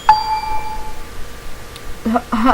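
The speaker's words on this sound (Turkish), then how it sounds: "Arkadan bildirim geldi." A bright notification ding in the video game Toilet Success 2 rings out once at the start and fades slowly, followed moments later by someone talking.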